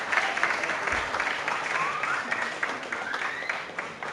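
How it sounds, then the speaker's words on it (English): Audience applause at a school award presentation for a winner named Matthew, steady dense clapping filling the room throughout, with some voices mixed in. "Sorry, round of applause for Matthew,"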